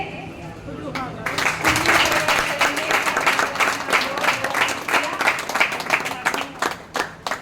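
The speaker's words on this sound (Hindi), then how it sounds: "तो आप सभी ताली बजा करके" A crowd at the opening of a de-addiction picture exhibition breaks into applause, the clapping rising after a brief lead-in and continuing loud and dense, thinning toward the end, with a voice audible underneath.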